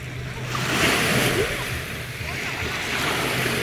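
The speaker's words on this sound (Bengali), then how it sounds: "সমুদ্রের জলের শব্দ পাচ্ছেন কিনা জানি না।" Atlantic sea waves wash onto an American beach, a soft rolling surf under light wind buffeting the microphone, steady and fairly close.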